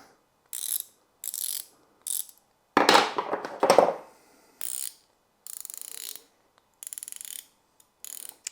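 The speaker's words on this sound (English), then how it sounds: "here's one of the brand name ratcheting spanners out of the toolbox" Brand-name ratcheting spanner from a toolbox being worked, short bursts of rapid fine clicking repeated about ten times with brief pauses, plus a louder rattling handling noise near the middle, close and isolated.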